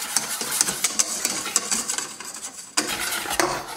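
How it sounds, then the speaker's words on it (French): A whisk stirs a chocolate dessert cream mixture in a bowl, giving steady rapid scraping and clinking strokes of metal against the bowl. A short pause falls near the end before the whisking resumes, with no talking. "je récupère un fouet et je mélange le tout"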